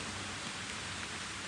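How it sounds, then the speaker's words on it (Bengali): Heavy rain pours steadily beside a roadside in Purulia, a dense, even hiss of downpour that is fairly faint and unbroken, with no voices. "এ দেখো বৃষ্টি শুরু হয়ে গেছে, ভালোই বৃষ্টি হচ্ছে।"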